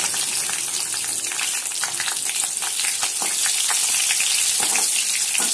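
Green chillies fry in hot oil with mustard seeds and cumin, giving a loud, steady sizzle dotted with sharp crackles and pops, and no voices.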